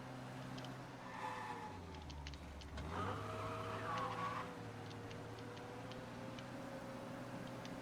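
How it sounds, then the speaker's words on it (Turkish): A police car's engine hums low while a quiet siren-like wail rises and falls, with light ticking clicks scattered throughout; faint and distant; in the video game Mafia: Definitive Edition. "Hmm, polis arabası."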